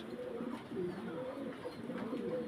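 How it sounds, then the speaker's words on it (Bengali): A caged pigeon coos softly nearby, low rolling calls repeating in quick succession over a quiet background. "দেখেন তো কবুতরটা কি সুন্দর হাই রে ডাক"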